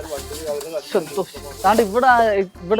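A loud snake-like hiss is played in an invisible cobra prank on an autorickshaw driver. It comes in bursts mixed with close talking voices.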